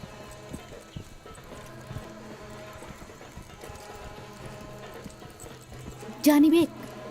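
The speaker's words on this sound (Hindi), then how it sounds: "अपने घोड़े लेकर आओ।" Horses' hooves clip-clop at a steady walking rhythm as mounts are brought out for a hunt, under dubbed dialogue with a short loud burst near the end.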